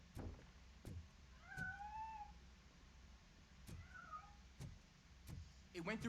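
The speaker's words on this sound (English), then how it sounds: "That cat must be hiding inside." Two distinct cat meows from the game Robocop: Rogue City, each a rising-and-falling cry of moderate loudness, spaced a couple of seconds apart over a low ambient hum punctuated by sharp clicks.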